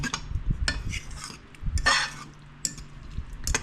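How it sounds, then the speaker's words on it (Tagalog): A utensil stirs a pot of boiling broth with vinegar, clinking and scraping against the metal in irregular bursts with soft bubbling between, close and fairly quiet. "Kumulo na yung kanyang sabaw na may suka. Kaya pwede isang halu-haluin."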